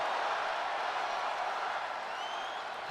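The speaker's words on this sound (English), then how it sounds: "Sick crowd chanting one more time." Crowd noise in a WWE-style wrestling video game, a steady, dense roar of many voices chanting and cheering together, loud and unbroken throughout.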